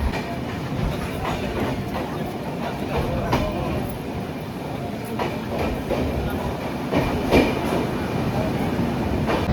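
Interior of a Vande Bharat Express train in motion: a continuous rumbling ride with rhythmic clicks of wheels over rail joints and occasional sharper knocks. Faint voices can be heard beneath the noise.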